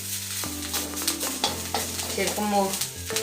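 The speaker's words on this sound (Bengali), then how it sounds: "আমার এই যে আদা ভাজা হয়ে গেল" Ginger fries in oil in a pan, a moderate sizzle and spatter running under steady tonal hums and shifting background noise, with some brief clattering accents.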